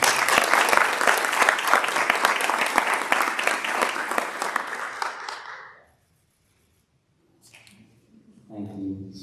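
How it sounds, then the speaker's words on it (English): A crowd applauds loudly and steadily for about six seconds at a Board of Education meeting, then the clapping stops and a voice begins speaking after a short silence. "Let's give her a round of applause."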